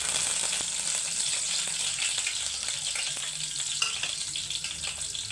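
Curry leaves sizzle in hot oil at the start of a chicken curry, a steady, close, bright crackle that runs throughout with faint stirring ticks and no voices.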